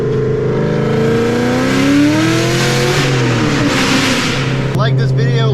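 A Ford Mustang SVT Terminator Cobra engine drones loud and close, its pitch rising and falling steadily as it revs, then briefly drops before a sharp change near the end.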